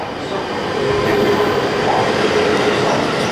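A JR West train at Higashi-Yodogawa station on the Kyoto Line, a steady loud rumble of wheels and cars rolling along the platform throughout, with no talk.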